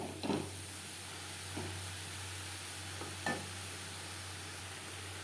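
Vegetable filling for veg momo being stir-fried in a pan, with a steady low hiss and a few soft scraping stirs spaced a second or so apart, quiet and close with no talking.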